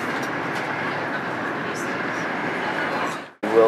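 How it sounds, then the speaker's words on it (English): Steady rumble and rush of a high-speed train to Madrid running at speed, heard from inside the car as a constant loud drone, cut off abruptly near the end by a brief voice. "high-speed train to Madrid, 2 hours, up to 200 miles an hour."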